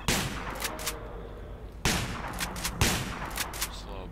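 Shotgun blasts in S.T.A.L.K.E.R., three loud booming shots spaced about a second apart, set against a dense noisy background of other gunfire and game sounds, with no talking.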